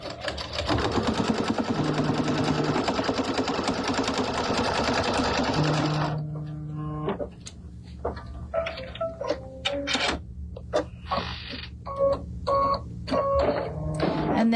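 A sewing machine stitches a diagonal line across quilting fabric for a table runner, running in a loud, fast continuous burst for about six seconds, then stopping and giving way to short intermittent stitching bursts, clicks and handling sounds.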